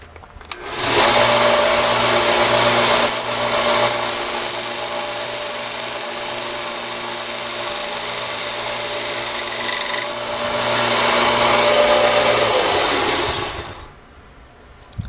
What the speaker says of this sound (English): sharpening drill bits while you're out in the field, if you've got a belt sander